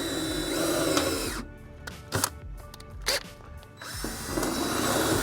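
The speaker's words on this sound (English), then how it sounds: "I'm going to use the 3/16 as to pilot this hole for the shaft," A power drill with a 3/16 bit bores a pilot hole for a shaft while a Masterbuilt Gravity Series smoker is being modified. The loud whine runs, cuts out for a couple of seconds with a few clunks, then starts up again.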